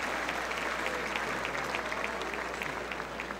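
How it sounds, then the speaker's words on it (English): Sustained audience applause fills a dinner event at a book festival, steady and dense clapping from a large seated crowd throughout, moderately distant with no talk over it. "A big round of applause for Western National Parks Association."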